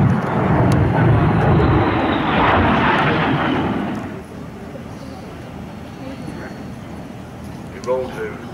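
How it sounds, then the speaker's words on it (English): Jets of the Saudi Hawks aerobatic team roar loudly overhead at an air show in Bahrain, the rumble fading after about four seconds into quieter background. "فريق صقور السعودية وهو يقترب"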